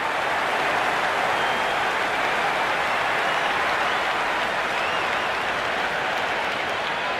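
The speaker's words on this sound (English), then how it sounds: "The crowd is electric right now." Stadium crowd applauding in the cricket video game Cricket 26 during a Hundred tournament match, a dense, continuous roar of clapping at steady volume throughout, with no talk on top.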